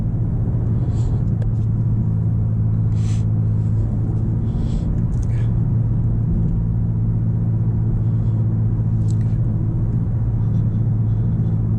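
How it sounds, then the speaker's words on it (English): 2023 BMW M4 CSL driving over manhole covers, its stiff suspension giving brief thumping jolts above a steady, loud engine and road rumble inside the cabin. "I'll try to find some manhole covers, and you'll hear it, kind of the jolt we get in this suspension from it"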